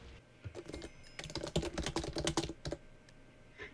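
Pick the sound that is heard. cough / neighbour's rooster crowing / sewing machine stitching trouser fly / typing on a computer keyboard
typing on a computer keyboard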